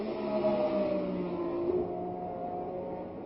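A 1967 Formula 1 race car drives past Beau Rivage during the Monaco Grand Prix. Its engine gives a thin, muffled, steady whine that eases off slightly toward the end, heard in an old, low-fidelity recording.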